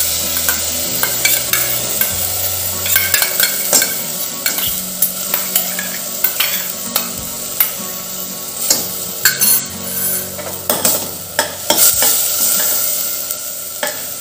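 Washed mixed urad dal stirred into a frying green masala paste in oil for Khandeshi-style dal, with steady sizzling and repeated scraping, clinking utensil strokes close by throughout, no voices.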